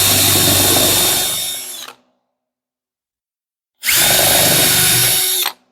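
Power drill countersinking a screw hole in a 2x4 wood board, two loud, steady whirring runs of under two seconds each separated by about two seconds of silence, close up and with no talking.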